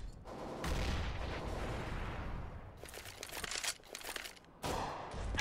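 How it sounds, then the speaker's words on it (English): A grenade explodes in Counter-Strike: Global Offensive among bursts of gunfire: heavy booming blasts, crackling, and sharp cut-offs followed by renewed noise, loud and close throughout. "Grenade out."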